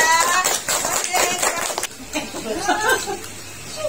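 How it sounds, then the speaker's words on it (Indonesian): Spectators at a community quiz simulation clap for the players, a burst of hand claps in the first half that fades into scattered chatter and light laughter. "kita tepuk tangan dulu ya"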